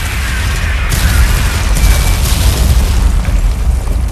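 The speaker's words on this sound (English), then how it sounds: "Artillery fire on our position." Artillery shells explode in the Tom Clancy's EndWar video game, a dense run of loud, deep booms and rumbling blasts rolling on continuously for several seconds with no pauses.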